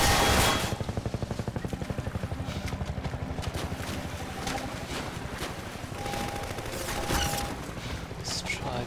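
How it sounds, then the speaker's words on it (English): Gunfire from the video game Half-Life 2 in an old city area, a fast steady rattle of shots running through most of the clip with mechanical game noise beneath and a faint voice briefly audible. "Oh crap, we're getting shot."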